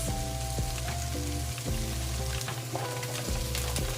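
Carrots tossed into a pot of creamy sopas on the stove, a steady sizzle and bubbling with a few soft clatters and stirring sounds, close and without talk.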